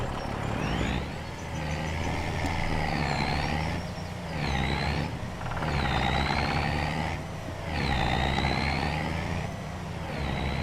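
Truck engine idling in the farming game Farming Simulator 25, a steady low rumble that holds through the whole stretch with gentle swells in level and a faint higher whine riding on top; no talking.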